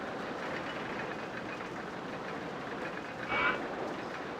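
Wooden mine-train roller coaster running in RollerCoaster Tycoon Classic, a steady low rumbling rattle of the train on its track with a brief brighter clatter near the end, no talk.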